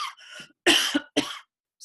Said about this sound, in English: I have a Standing Rock cough